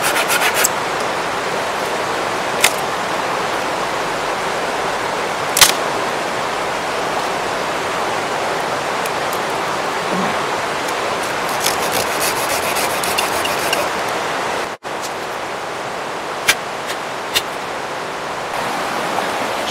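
Steady coarse rasping of a small hand saw cutting wood, continuous and close, with a few brief clicks and knocks.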